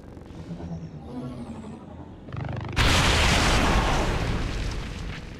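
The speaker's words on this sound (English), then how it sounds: "The Purifier then also blows up for good measure" A Purifier enemy blows up in XCOM 2: after quieter game sounds, a sudden loud explosive boom bursts in and rumbles on for several seconds before slowly fading.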